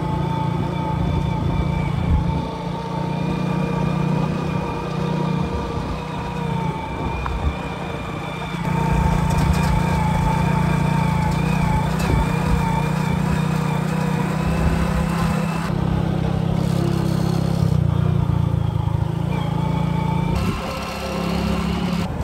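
A motorbike engine drones steadily and loudly while riding a rough, heavy hill road, its tone dipping and rising with the bumps.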